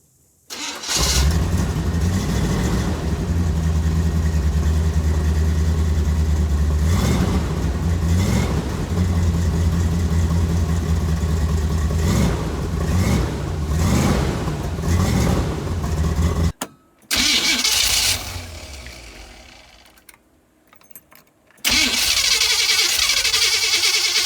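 A Chevy van V8 with a Flowmaster exhaust and Quadrajet carburetor cranks and fires, then rumbles deep and loud close by, with repeated sharp revs, a brief cutoff, a fading coast-down and a final restart.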